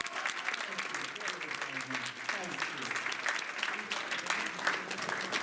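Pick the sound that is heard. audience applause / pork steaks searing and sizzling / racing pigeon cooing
audience applause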